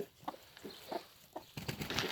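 Chickens, including a Turkish hen, cluck softly in short scattered calls near a rooster, faint and close with light rustling between.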